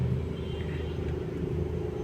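Steady low car rumble of city traffic in Manila, a continuous near drone of idling and slow-moving vehicles with no distinct passes, and no talk over it.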